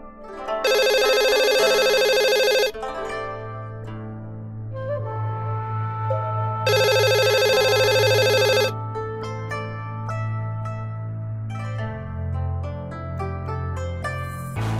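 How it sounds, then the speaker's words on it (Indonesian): A telephone rings loudly in two long bursts of bright repeating bell tones, with a low hum and softer tonal sounds between and after the rings. "Telepon."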